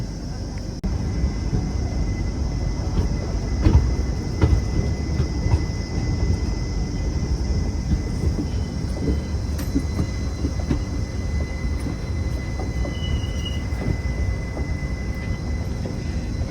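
The Tirupati–Puri Express pulls out of Bitragunta, a loud, steady rolling rumble of wheels and carriages heard from on board, with faint rattles and an occasional thin squeal.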